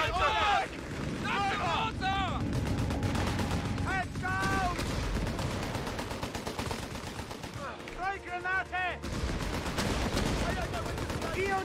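Battlefield gunfire in the World War II strategy video game Company of Heroes 3 in North Africa, continuous rattling bursts and impacts, loud, with game voices calling out over the shooting.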